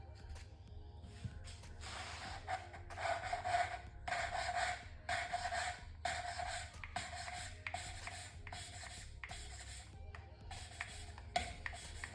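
Valve lapping on a Kawasaki Ultra 260X engine, an oil-mixed abrasive paste grinding between valve and seat: repeated rasping strokes in short bursts, close and steady, with no talk.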